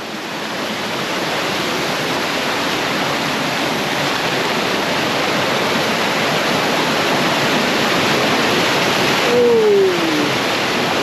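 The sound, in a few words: rushing rapids of a waterfall in Jamaica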